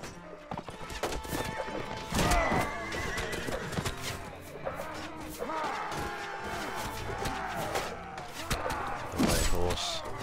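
A horse in the Mount & Blade: Warband video game neighs loudly amid clattering hooves and crashing battle noise, with the sound dense and continuous throughout.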